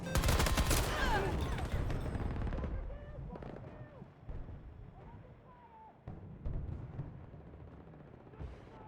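Battlefield 2042 gameplay opens with a loud burst of rapid gunfire and explosions from grenades, then settles into scattered distant shots and blasts under a voice talking.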